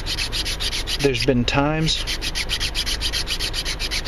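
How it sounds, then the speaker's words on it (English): A hand file rasps across the wood of a handmade Cherokee four-hole whistle in fast, rhythmic close-up strokes, with someone briefly talking over it. "You can file it at an angle like this."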